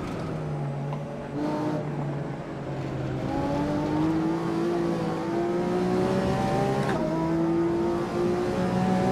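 Lamborghini Aventador SV engine in the racing game Assetto Corsa drones steadily and loudly at high revs, with pitch climbing and dipping through gear changes across a continuous run.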